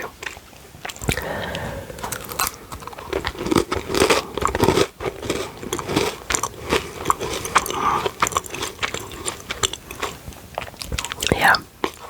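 A crunchy, buttery British biscuit is bitten and chewed close to the microphone, with steady crisp crunches and mouth sounds over twelve seconds and soft whispered talk in between.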